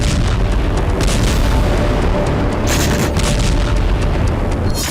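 Explosions in war footage of Ukrainian strikes on Russian territory: a continuous, loud rumbling roar with repeated heavy booms and bursts layered over one another, dense and close throughout, with no voices.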